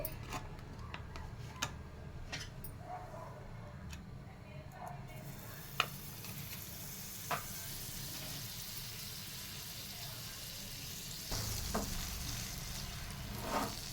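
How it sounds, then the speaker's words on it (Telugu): Bread for avocado toast browns in butter in a pan, making a soft, steady sizzle with occasional light ticks and clicks, growing a little louder near the end. "ఇప్పుడు మనం బటర్ తోటి కాల్చుకుందామండి."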